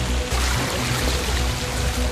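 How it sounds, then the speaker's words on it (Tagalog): A strong, rising river current surges where the Cavite and Chico rivers meet during flooding, a loud, dense rush of water that fills the whole moment without pause. "Palakas na ng palakas ang agos dahil nandito po tayo ngayon kung saan nagtatagpo ang ilog ng Cavite at Chico."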